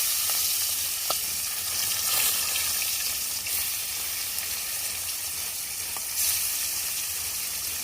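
Pieces of rohu fish sizzle steadily in hot oil in a heated kadai, a loud continuous frying hiss with a few faint pops and no talking.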